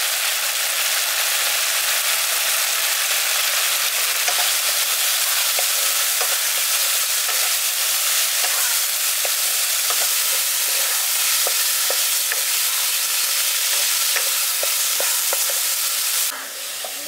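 Fried spice masala with turmeric sizzling in a pan with paneer for a village-style paneer masala, a continuous close hiss with repeated scraping stirs, heard alone.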